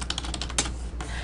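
Quick, close typing on a computer keyboard as a username is entered, a rapid run of light clicking keystrokes with a brief pause before one more tap.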